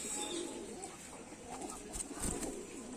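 A restless pigeon struggling in a hand gives soft, repeated coos over a steady background of rustling and handling noise, close by, with a louder flurry near the end.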